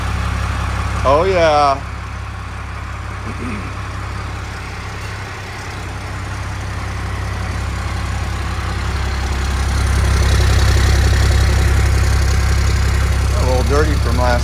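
A 5.9L Cummins turbo diesel starts from cold and settles into a loud, low, steady idle that rumbles on and swells slightly. A voice briefly speaks near the start.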